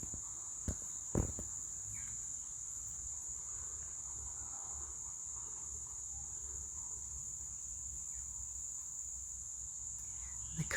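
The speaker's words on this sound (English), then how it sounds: "The crickets are coming on." Crickets chirp steadily at night in a continuous high, even drone that holds for the whole stretch, with a couple of brief knocks near the start and no talking.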